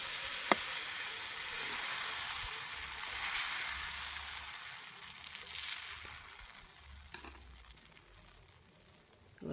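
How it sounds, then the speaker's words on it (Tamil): Wheat flour dosa batter sizzles on a hot oiled griddle, a steady close crackling hiss with soft patter that holds throughout and gently fades toward the end, with no talking. "தோசைக்கல் சூடாகிட்டு நான் தோசையை ஊற்றுறேன்."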